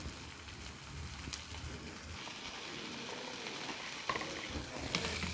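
Onions and tomatoes frying in a pan for mutton curry, a steady soft sizzle with faint crackles throughout, close and continuous with no talk.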